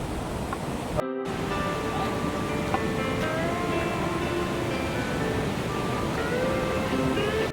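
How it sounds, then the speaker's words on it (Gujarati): Water rushes down from above along a steep mountain trail near Yamunotri, a steady, unbroken roar heard at a moderate distance, with faint higher chirps over it. "જો ઉપર ઓલું પાણી પડે છે"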